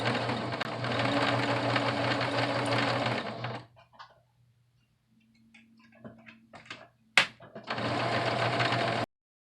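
A sewing machine stitches fabric for a men's shirt in a steady, loud mechanical whir. It runs for several seconds, pauses into near silence with a few small clicks and a sharp knock, then starts stitching again.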